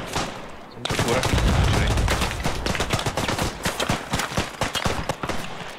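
A Chauchat machine gun firing in the WWI shooter Beyond The Wire, a loud, close stream of rapid, evenly spaced shots that begins after a brief quiet moment and rattles steadily to the end, with faint distant battle noise behind.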